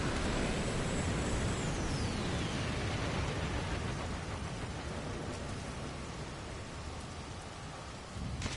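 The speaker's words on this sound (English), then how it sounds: "That should last me till the storm ends." Steady rain pours throughout a video game storm, a dense even hiss with low rumbling beneath and a faint tone that sweeps away early on, holding constant at close range.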